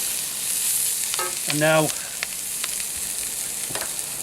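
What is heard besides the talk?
onions, celery and garlic frying in cast iron pan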